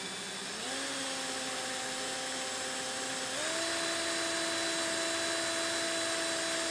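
A drill driving an angle drive fitted to a cable while work is done on a 1964 Triumph TR4 gives a steady whine that starts up, then steps up in pitch, running continuously, with no talk.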